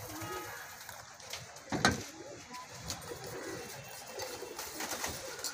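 Domestic pigeons cooing softly at a loft during feeding and deworming care, low repeated coos against faint background noise, with a few sharper knocks and rustles.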